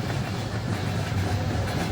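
A train in the Rolling Line game brakes and slows, giving a steady low rumble with faint rhythmic clatter, continuous and moderately quiet, with no voices.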